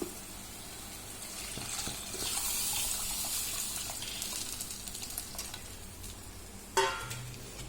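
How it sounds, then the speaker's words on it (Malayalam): Tamarind water pours steadily into a hot pan of fish curry, a broad hissing splash that swells and then settles into a low bubbling sizzle, with a brief clatter near the end. "പിഴിഞ്ഞു വെച്ച പുളിവെള്ളം ഒഴിക്കാം."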